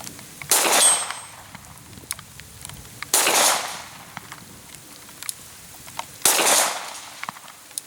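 Three loud gunshots ring out at a target in the rain, each a sharp blast with a lingering decay, spaced about three seconds apart with quiet between.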